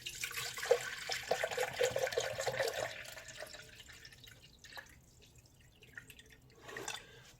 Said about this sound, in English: I'm going to put in my water.